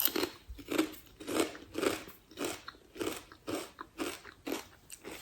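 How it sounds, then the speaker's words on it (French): Cheddar jalapeño potato chips being bitten and chewed close to the mic, about nine sharp, evenly spaced crunches alone with no talking. "Pour ceux qui adorent les bruits de bouche, là, vous êtes servis."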